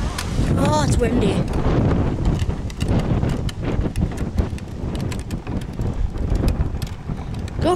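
Strong wind roars and thumps across the microphone throughout an outdoor dog walk ahead of coming rain, steady and close, with a voice briefly audible beneath it.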